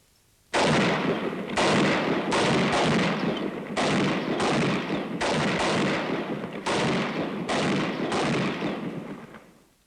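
An automatic weapon fires at a target during 1940s British Army training, several loud bursts of rapid shots separated by brief pauses, close and echoing.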